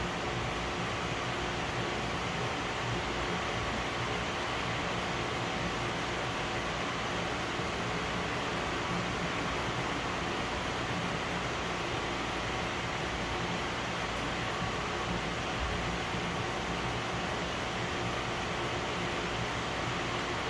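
Fan running in a hot garage: a steady, broadband whoosh of moving air, continuous and even throughout, close and moderately loud, with no voices.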